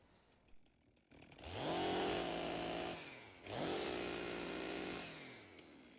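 A chainsaw revs up twice in the woods, each burst rising into a loud, sustained buzzing whine that settles into a steady drone before easing off, with a short quiet gap between the two runs.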